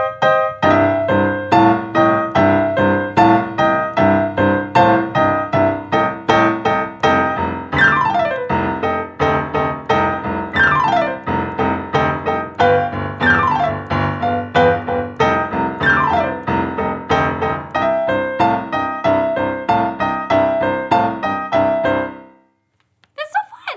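Piano plays a song slowly with both hands together, a steady rhythmic left-hand pattern under repeated right-hand chords and downward glissando runs, loud and close, ending abruptly with a brief trailing sound.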